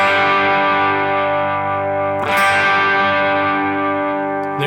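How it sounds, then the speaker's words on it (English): Electric guitar chords with a dirty, distorted tone ring out loud and sustained, with a second strummed chord partway through and no talking. "Here's a dirty sound."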